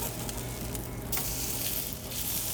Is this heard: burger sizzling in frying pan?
yes